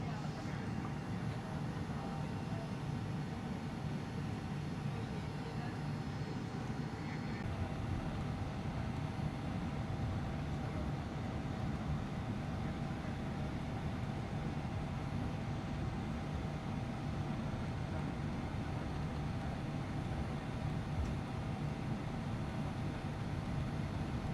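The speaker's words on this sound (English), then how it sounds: "It is now time for taxi to the runway." A steady, muffled engine and cabin drone inside a LATAM Boeing 787-9 airliner taxiing toward the runway, continuous and even throughout.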